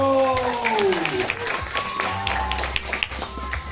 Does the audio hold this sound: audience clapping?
yes